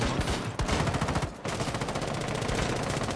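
Dense, loud automatic gunfire from the video game Rainbow Six Siege hammers in rapid bursts, with a short pause before the firing resumes just as fast.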